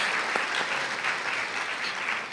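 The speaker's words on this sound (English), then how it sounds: "That was an applause without even really seeing the work yet here" An audience at an arts convention session claps, a dense, even wash of applause sustained throughout at moderate volume, with no voices.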